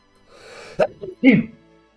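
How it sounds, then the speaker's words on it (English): A loud sneeze comes from a player during a Kingmaker tabletop session: a breathy build-up, then two sharp bursts very close to the microphone. "There's a sneeze coming!"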